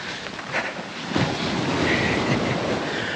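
Ocean waves wash onto North Beach on Marrowstone Island in Puget Sound at high tide, a steady broadband rush of surf mixed with wind buffeting the microphone.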